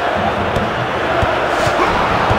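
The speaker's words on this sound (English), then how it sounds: "The crowd not in the least bit happy about that" Dense stadium crowd from a FIFA 04 Premier League match with Manchester United, a steady loud roar of disgruntled fans with scattered shouts and swells, continuous throughout.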